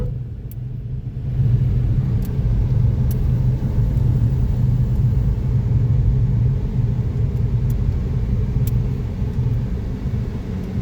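Steady low rumble of a Toyota car driving along a single-lane road, heard from inside the cabin; it starts quieter, then holds an even, loud drone with no voices.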